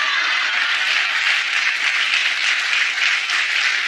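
A television talk show studio audience applauds steadily, a dense even wash of many hands clapping at constant loudness throughout, with no gaps and no clear talk.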